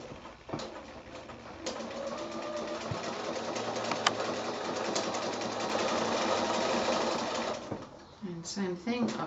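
A sewing machine stitches a small quilt block, a steady close mechanical whirr that runs for several seconds and then stops, with someone speaking around it.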